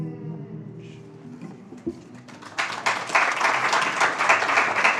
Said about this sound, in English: let's have an extra round of applause for the spellers too